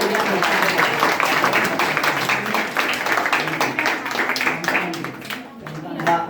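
An audience claps at a certificate and prize distribution for a skill development program, the applause continuing with a voice speaking over it.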